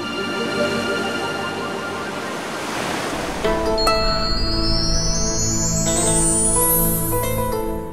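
Sea waves surge and break against the rocks at Petra tou Romiou on the Cyprus coast, a steady broadband wash that grows fuller partway through, with tonal music layered over it and no talk.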